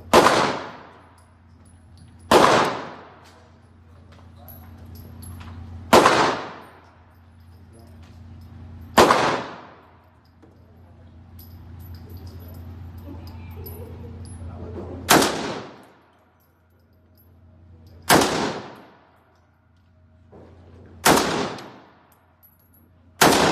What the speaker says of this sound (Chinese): 现在我们换了一个长枪